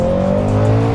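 A sports car accelerating hard, its engine note loud and close with a steady, strained drone under heavy throttle and no talking.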